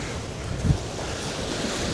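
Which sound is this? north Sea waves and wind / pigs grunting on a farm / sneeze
north Sea waves and wind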